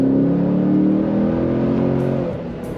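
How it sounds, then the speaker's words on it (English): 2012 Chevrolet Camaro SS 45th Anniversary convertible accelerating, its engine note a loud, close, rising drone with strong low harmonics that eases off near the end. "Very fun to put your foot down in this car and feel the torque."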